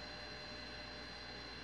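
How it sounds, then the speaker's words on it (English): A hard drive spins inside a Zilkee Ultra Recovery converter, giving a faint, steady hum with a soft hiss that holds unchanged throughout, close and alone. "Now you should be able to hear that spinning,"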